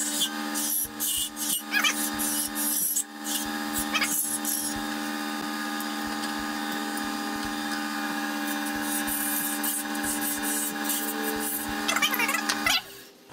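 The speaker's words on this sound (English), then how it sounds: "I'm going to take a detail spindle gouge from Nova. I'm just going to cut." Wood being cut on a lathe with a Nova detail spindle gouge while turning a honey dipper, a steady spinning hum with repeated scraping and rasping bursts from the tool on the workpiece, close and fairly loud.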